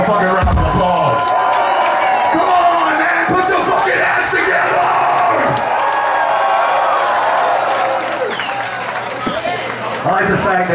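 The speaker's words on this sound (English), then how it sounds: "Give them a fucking round of applause" A crowd at a metal concert at the Albert claps, cheers and bellows loudly and close, a dense roar of applause with shouts that eases slightly near the end.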